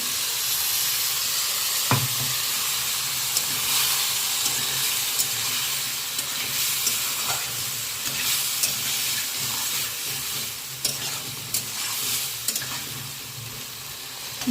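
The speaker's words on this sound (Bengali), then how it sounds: "এবার মশলাটা ভালো করে মিশিয়ে নিয়ে কিছুক্ষণ কষিয়ে নেব" Spice paste for a spicy snail curry sizzles steadily in a hot pan, with occasional soft scrapes of stirring, close and continuous, and no talking.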